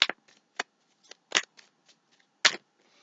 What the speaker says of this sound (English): It's weird how I'm shuffling my cards. I'm like so fast.